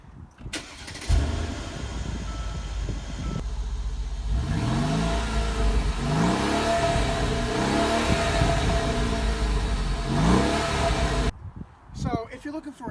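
A 2017 Mercedes-Benz SL 550 sports car engine starts with a crank, then revs repeatedly in rising and falling surges, loud and close, before cutting off abruptly.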